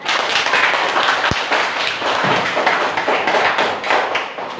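Classroom applause from teachers and students after a teaching-practice reflection session, a dense, steady patter of many hands clapping close by with one sharper thump partway through.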